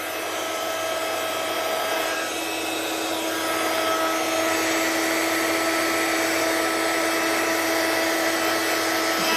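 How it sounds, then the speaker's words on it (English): A heat gun runs steadily throughout, a loud continuous blowing whine with a tonal hum as it heat-sets embossing powder in a craft demonstration, with no talking. "I really need a heat gun when it's so hot, don't I?"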